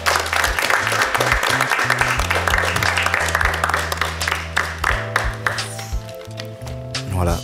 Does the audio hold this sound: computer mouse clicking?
no